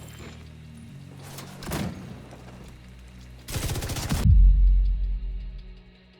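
An armoured vehicle launches grenades in The Division 2, with several muffled thumps followed by a rapid rattling burst and a deep booming impact that lingers and fades, alone without speech.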